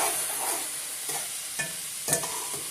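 Pink beans cooking into a pot of loaded dirty rice, giving a soft continuous sizzle broken by several scraping stirs of a spoon against the pot, no talking.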